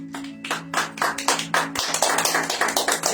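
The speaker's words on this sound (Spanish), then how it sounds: "los camaradas que están acá recíbanlo con un aplauso" A small gathering claps to welcome a guest speaker before a talk, a handful of distinct hand claps, quickening and overlapping into a steady patter, close and fairly loud over a low electrical hum.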